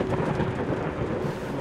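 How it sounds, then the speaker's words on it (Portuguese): Rain and rolling thunder in the video game Layers of Fear, a dense low rumble under a steady hiss of rainfall, loud and continuous throughout. "e o barulho de chuva"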